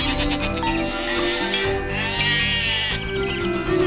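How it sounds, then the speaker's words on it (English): Goats wearing bells around their necks bleat in repeated wavering calls over a continuous layer of music, with a light jingling mixed in; no one speaks. "That's when she heard the goats with bells around their neck."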